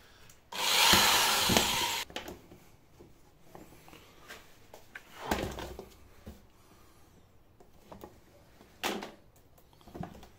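A hole-cutting set bores through plastic with a harsh, loud grinding burst at first, then shorter scraping bursts spaced apart, close by with no talking.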